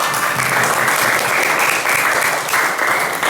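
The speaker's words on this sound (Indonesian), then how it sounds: "Tepuk tangan buat semuanya." A group of participants in a classroom-style counselling session claps together, a loud, close, continuous round of applause with a few brief surges and no talk over it.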